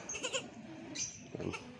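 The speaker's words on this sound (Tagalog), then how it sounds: "may alagang kambing na bata" A young goat gives two short, faint bleats close by, with a quiet pause between them.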